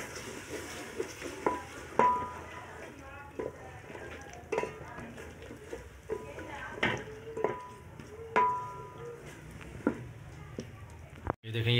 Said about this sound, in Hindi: अब इसमें टमाटर ऐड कर रहे हैं, ये हमने काट लिए से पहले से, इसको अच्छी तरह से मिक्स करेंगे